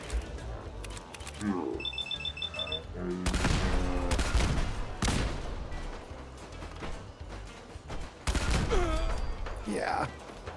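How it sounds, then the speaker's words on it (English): Rapid bursts of gunfire in the Fallout 4 video game during a raid on the Nuka-World parks, loud volleys recurring across the span with game voices and music-like tones between them. "Who's shooting down there?"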